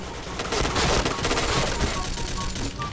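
SCAR Recamo assault rifle firing in a PUBG-style shooter, a dense, loud burst of rapid automatic shots rattling continuously for nearly three seconds with no break.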